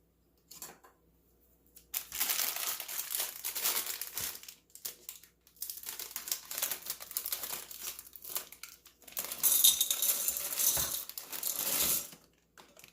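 Chocolate chips are poured from a crinkly plastic bag in several bursts, with rustling and rattling of chips close by, separated by brief quiet pauses.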